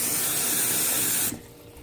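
Water gushes in a steady, loud, hissing stream into a bucket of live blue crabs, then cuts off abruptly partway through, leaving a quiet background.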